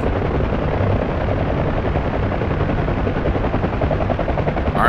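UH-1H Huey helicopter flying in DCS World on a Cold War server, a loud continuous rotor thump and engine drone heard from inside the cabin, with no break.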